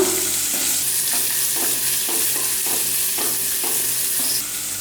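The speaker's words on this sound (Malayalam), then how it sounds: "ഇനി ഇതിലേക്ക് അരിഞ്ഞു വെച്ചിരിക്കുന്ന സവോള അത് നമുക്ക് ചേർത്ത് കൊടുക്കാം. നന്നായിട്ട് വഴറ്റിയെടുക്കുക" Sliced onions sauté in hot oil for a mutton liver fry, a loud, steady sizzle with a regular series of scraping strokes as a spoon stirs them around the pan.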